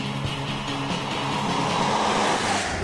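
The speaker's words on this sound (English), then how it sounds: "Then there's that old-fashioned metallic knocking sound of the 52-horsepower engine." A 1951 Borgward Hansa 1500 with its 52-horsepower engine runs steadily with a low, continuous mechanical drone and a faint metallic knocking, loud and close, with no voices.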